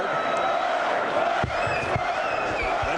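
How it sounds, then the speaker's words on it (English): A boxing arena crowd at the end of the Chris Byrd vs David Tua fight roars in a steady, dense wash, with rhythmic chanting pulses in the back half and a commentator's voice over it. "The crowd chanting for Byrd."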